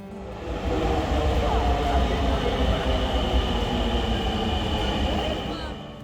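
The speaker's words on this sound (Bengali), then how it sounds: "মাত্র দুই মিনিট প্ল্যাটফর্মে দাঁড়াতেই রেল এসে হাজির" A crowded commuter train pulls into a station platform on a busy holiday, its steady rumble and rolling clatter loud and close, with faint squeals of wheels on rails and crowd murmur underneath.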